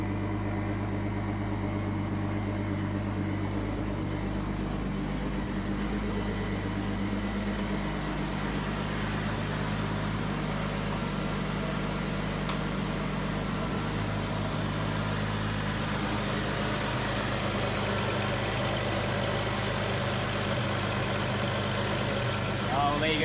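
A Nissan Stagea with an RB25DET engine and custom exhaust dump idles steadily with a deep, even rumble throughout, close and continuous, with no noticeable revving.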